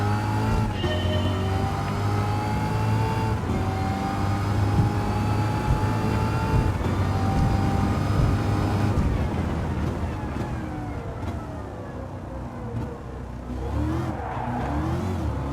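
A racing video game car accelerates through a hairpin in first gear, its engine revving loud and steady with harmonic whine that climbs, then backs off into lighter revving and tire squeal near the end.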